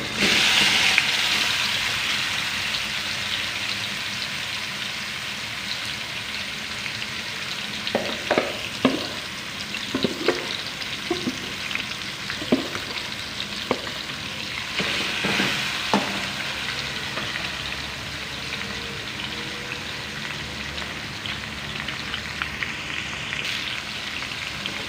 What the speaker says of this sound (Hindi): तो यहाँ पे इसी ऑयल के अंदर मैरिनेटेड चिकन डाल लेंगे।